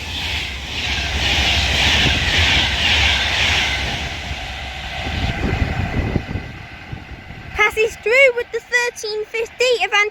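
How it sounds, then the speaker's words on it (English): An Avanti West Coast Class 390 Pendolino electric train passes at speed through Acton Bridge on the West Coast Main Line, a loud sustained rushing roar that fades, followed by bird chirps. "Now passing through is going to be an Avanti West Coast Class 390 Pendolino."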